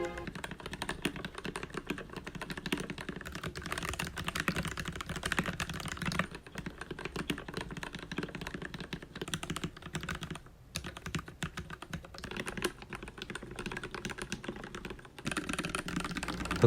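Fingers type on a mechanical keyboard fitted with lubricated Gateron yellow switches. A close, continuous patter of quick, soft clacks runs throughout at a moderate level.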